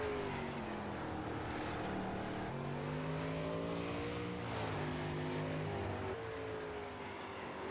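A race car running fast qualifying laps in a last chance qualifier, its engine a continuous droning roar with rising and falling pitch as it accelerates and backs off, heard at a distance and fairly faint.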